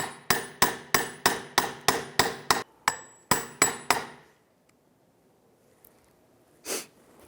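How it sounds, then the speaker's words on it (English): A tool taps a bearing cap into the driveshaft yoke of a 2000-2006 Toyota Tundra in a quick, even series of about thirteen sharp metallic strikes with one brief pause, followed by quiet and a short breathy sniff. "we're slowly going to tap the cap down inside."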